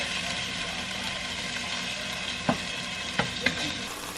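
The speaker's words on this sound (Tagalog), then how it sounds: "Yan, igisa ko siya kaunti." Garlic sautéing in oil in a pan, a continuous soft sizzle close by with a few sharp clinks or taps from stirring near the end, no speech.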